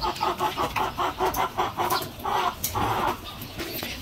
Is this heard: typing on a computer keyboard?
no